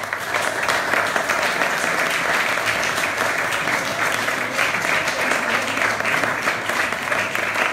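An audience applauds at the launch of an association at Officine Fratti, sustained dense clapping from a crowd, fairly loud and even throughout.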